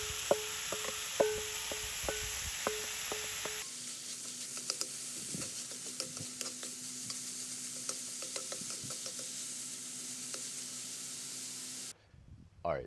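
Bacon fries in a hot pot on a stove, a steady close sizzle and hiss with scattered pops, stirring scrapes and clinks over it and an earlier stretch of sharp taps, then it cuts off near the end.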